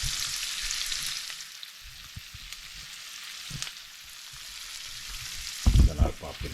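Onions fry in hot oil with a steady hiss that fades briefly, then a burst of louder crackling and stirring clatter near the end, close by with no talking.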